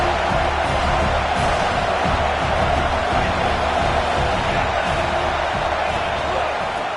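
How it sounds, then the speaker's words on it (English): A dense football stadium crowd at a Tennessee versus Georgia game, a loud continuous roar of cheering and noise holding steady throughout, with voices mixed into the wash. "This crowd knows this defense needs them right now."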